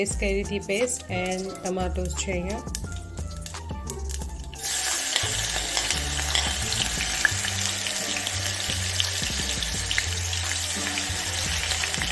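Oil frying in a pan while cooking at home, a steady loud sizzle that starts abruptly partway through after a stretch of clattering kitchen sounds and voices.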